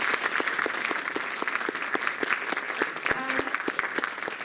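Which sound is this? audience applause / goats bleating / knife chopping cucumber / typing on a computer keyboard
audience applause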